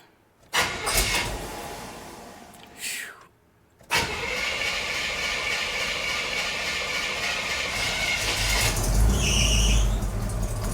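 A 4x4 truck engine cold-starts after a couple of short cranking bursts, then catches and settles into a steady loud idle; a brief squeal rises near the end.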